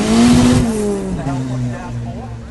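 A Datsun 1200 rally car fitted with a 1.8 litre Nissan CA18 engine roars loudly at a forest rally sprint, its engine note shifting in pitch, with a voice talking alongside.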